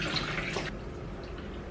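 Tap water gushes steadily into a stock pot in a home kitchen, a continuous close splashing stream with a brief brighter splash near the start, heard alone.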